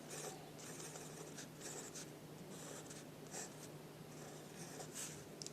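Pencil sketching a character's rough details on paper, a faint, close scratching of graphite in short repeated strokes with brief pauses between them, over a low steady background hum and with no voices.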